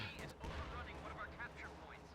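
Distant explosions and bursts of gunfire crackle through a World War II battle in the strategy game Company of Heroes 2, a muffled rumbling mix of shots and booms layered under a continuous low battlefield din.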